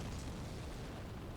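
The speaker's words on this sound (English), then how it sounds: "you guys hear the giant explosion?" A giant explosion rumbles in Dark Souls Remastered, a brief, dense roar of low booming noise that stays heavy and fairly even across its short length without any talk over it.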